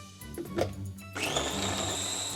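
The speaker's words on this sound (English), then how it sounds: "we added cod, a bit of flour, and an egg to a blender" A kitchen blender whirs as it purees cod, flour and an egg into a paste: soft clatter at first, then the motor spins up to a steady, high, close whine.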